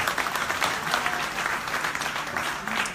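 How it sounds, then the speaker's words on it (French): Audience at an international church convention in Lyon applauds warmly, a dense, steady wash of clapping from many hands lasting a few seconds. "On applaudit le Seigneur."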